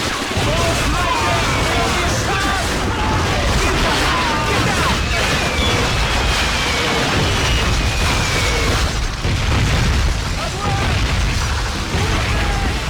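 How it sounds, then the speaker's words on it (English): Dense, continuous battle din from the video game Call of Duty: Finest Hour, with repeated artillery booms and bursts, a faint descending incoming-shell whistle, and rumbling low blasts throughout; voices mixed in. "You hear the incoming whistle of the artillery?"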